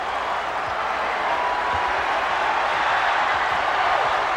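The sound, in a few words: crowd cheering at the Forum after Lakers NBA Finals win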